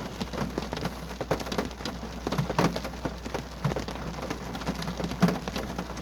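Steady rain patters on surfaces in a graveyard at night, a continuous close hiss of drops with scattered louder taps and no voices.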